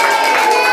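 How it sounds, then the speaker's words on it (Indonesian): A crowd of children cheers and claps at a storytelling show for kids, a brief loud burst of mixed shouting and applause. "Tepuk tangan sekali lagi buat Bunda Nopi."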